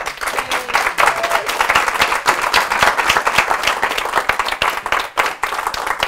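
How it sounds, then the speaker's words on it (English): Audience applause following a talk on real world agile, a dense, loud burst of many hands clapping that continues steadily for several seconds. "just rapturous applause will do at this point"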